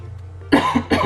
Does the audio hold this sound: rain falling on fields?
no